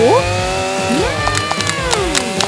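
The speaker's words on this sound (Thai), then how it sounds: "เลื่อยไฟฟ้าแบบพกพา จะลุยเลยนะ" A handheld electric saw whines with a steady high motor tone that rises and bends in pitch as it cuts, mixed with bright clicks and scraping, loud and continuous throughout.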